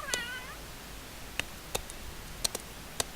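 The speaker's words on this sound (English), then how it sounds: "there's usually a cat or 2 to keep an eye on things" A household cat gives one clear, close meow at the start, followed by faint scattered ticks and light rustles in a quiet room.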